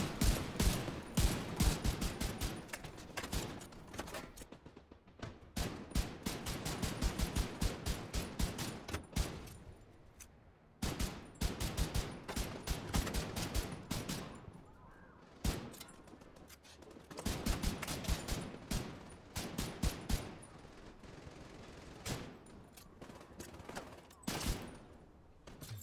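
Automatic weapon fire in The Division 2, rapid bursts of sharp shots in repeated volleys with brief pauses between, some near and loud, others softer, continuing throughout.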